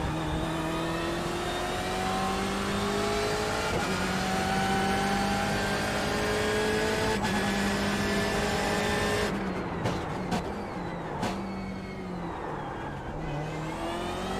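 A BMW M8 GTE race car in iRacing, its engine droning loud and steady with rising and falling revs through S-curves, then sharp downshift blips and braking near the end.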